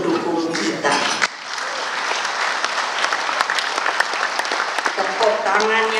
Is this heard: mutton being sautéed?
no